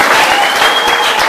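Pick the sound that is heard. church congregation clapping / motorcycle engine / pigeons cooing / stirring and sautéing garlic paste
church congregation clapping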